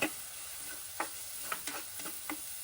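Onions with green chillies, curry leaves, salt and turmeric fry in a pan, a soft steady sizzle broken by a few sharp clicks and scrapes of stirring, close and quiet.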